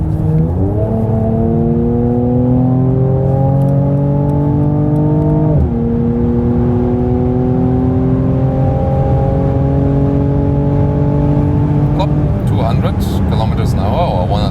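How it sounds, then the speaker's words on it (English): Mercedes C43 AMG facelift C-Class accelerating hard at full throttle, a loud continuous engine note climbing steadily in pitch through long gears with a brief dip at an upshift, interior perspective, ending in road and wind noise. "it's an AMG, so let's floor it out."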